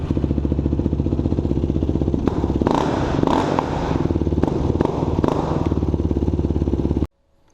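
A Yamaha YFZ 450 ATV engine fires up after a throttle cable replacement, running with a steady rapid thump and a few blips of throttle, loud and close, then cutting off abruptly at the end.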